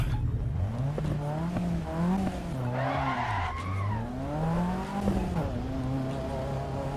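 Racing car in Assetto Corsa EVO, its engine note rising and falling through gear changes with tyre squeal, scattered sharp exhaust pops and chassis clunks, loud and close with no talk.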